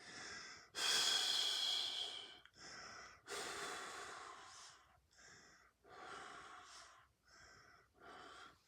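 Long, deep breaths drawn in and pushed out during a Kundalini yoga class, close and steady, several slow cycles of inhale and exhale, each swelling and fading with brief quiet gaps.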